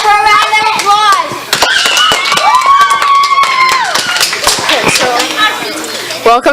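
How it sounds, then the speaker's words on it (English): A small gathering claps in sharp, scattered bursts close by, mixed with loud high-pitched cheering and shouting voices throughout. "Okay, yo, everyone, give her a round of applause"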